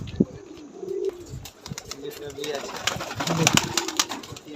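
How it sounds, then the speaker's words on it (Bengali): High-flying pigeons in a breeding loft coo softly close by, with brief wing flaps and clicks, and a voice speaking faintly in the background. "পায়রা আছে দেখুন।"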